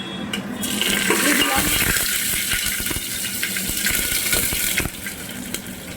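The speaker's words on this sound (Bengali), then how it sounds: "ফোড়নটা দিয়ে ভালো করে নাড়িয়ে নিচ্ছি যাতে তেলের সাথে ফোড়নের গন্ধটা চলে যায়" A bay leaf, a dried red chilli and cumin seeds hit hot oil for ghugni and sizzle up loudly at once, a steady rushing crackle close by that eases off near the end.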